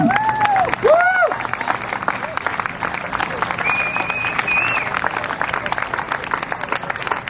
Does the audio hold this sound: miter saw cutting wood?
no